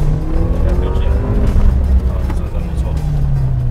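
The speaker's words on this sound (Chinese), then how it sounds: "然后我们做一个加速的测试" A 2019 Suzuki Jimny accelerates during a test drive, its engine droning steadily and close with a rising pitch, running continuously under talk from people inside.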